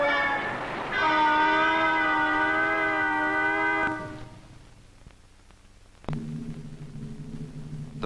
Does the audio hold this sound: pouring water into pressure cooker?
no